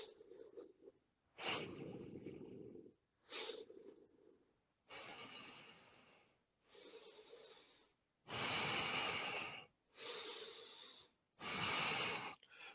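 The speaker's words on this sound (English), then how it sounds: "Deep breathe in, deep breathe out." Deep breathing in and out during a group yoga session, a series of long, close breaths alternating between softer inhales and louder, airy exhales, with short pauses between them and no talking.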